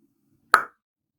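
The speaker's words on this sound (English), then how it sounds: "stiffen your tongue a little bit and then pop your tongue like this" A single sharp tongue pop, a short hollow click made by snapping a stiffened tongue off the roof of the mouth, close and isolated in near silence.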